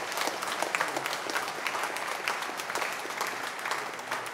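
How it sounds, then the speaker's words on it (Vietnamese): A church congregation at a Vietnamese Christmas Mass applauds the children's nativity play group, a steady, dense patter of many hands clapping at close range, with no one speaking over it. "Chúng ta làm một tràng pháo tay cảm ơn đội hoạt cảnh."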